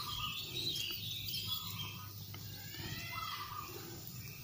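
Thin, high-pitched chirps from hand-reared paddyfield prinia chicks suffering from diarrhoea, repeated in quick irregular bursts over a faint background hiss, calling nearby.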